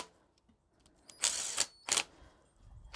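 A power tool spins down LS engine rocker arm bolts in two short, sharp whirring bursts, close and fairly quiet, with near silence around them.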